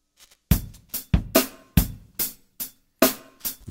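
Rhythmic piano chords struck in short bursts through the chord progression of "Joyful, Joyful, We Adore Thee", about eight attacks with brief gaps, each decaying quickly; clear and close with no voices.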